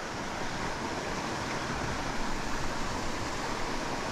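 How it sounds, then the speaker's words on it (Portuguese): A waterfall and river rapids at a river fishing spot, a continuous, even roar of rushing water with no voices. "Mas olha lá aquela queda d'água lá."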